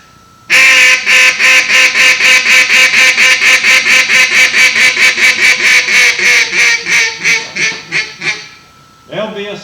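A duck call is blown in contest style, as at the World Championship Duck Calling Contest in Stuttgart, Arkansas. It gives a loud, rapid run of about thirty sharp quacking blasts that fade toward the end, then one more short burst.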